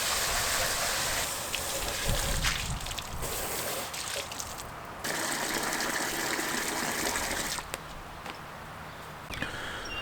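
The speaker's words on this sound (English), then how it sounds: "I was filling up the duck water" Water gushes steadily as a duck waterer is refilled outdoors, a continuous pouring rush with brief breaks and shifts in flow, close by with no talk.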